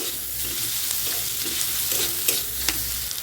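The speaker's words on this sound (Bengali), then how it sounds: "এতে একটু নুন দিয়ে আমি ভালো মতো পেঁয়াজটাকে এখানে ভেজে নিচ্ছি" Steady sizzling of salted onions frying in a hot pan for Bengali egg curry, with occasional scrapes and clicks of a spoon stirring.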